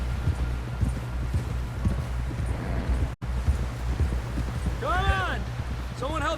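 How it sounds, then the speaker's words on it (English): Steady horse hoofbeats clip-clop at a trot in Red Dead Redemption 2, with voices and a few rising tonal calls layered on top. "help John down off this horse"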